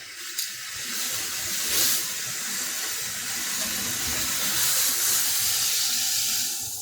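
A big chunk of pot roast meat sears in a small pan, giving a steady, fairly loud hiss and sizzle that runs unbroken throughout with no talking.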